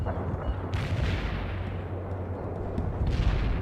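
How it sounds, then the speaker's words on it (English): Heavy artillery barrage in the World in Conflict video game: dense, continuous rumbling booms and blasts rolling together close and loud, with no talk over them. "Heavy artillery barrage inbound."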